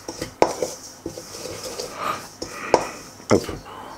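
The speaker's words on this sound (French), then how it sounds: "On met la poudre d'amande dedans. On rajoute aussi notre sucre, jusque là, ça va, hein. Donc on va juste mélanger un petit peu" Almond powder and sugar stirred in a bowl for a homemade galette des rois, with intermittent clinks of utensil against the bowl and soft scraping, close by and otherwise quiet.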